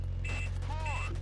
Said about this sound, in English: I'm gonna honk my horn at them